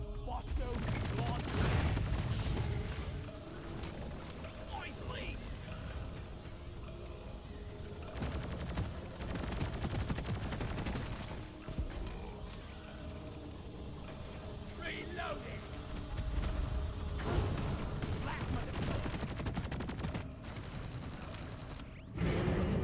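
Stubby submachine gun firing in Deep Rock Galactic, rapid bursts of close gunfire repeated in several clusters with mechanical clicks and whooshes between them, mixed with a talking voice.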